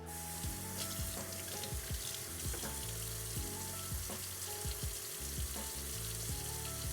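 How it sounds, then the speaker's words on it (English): Pork belly frying in a pan for adobo gives off a steady, loud sizzle, with bursts of crackling and spattering scattered across it. No one speaks. "you can already hear it sizzling"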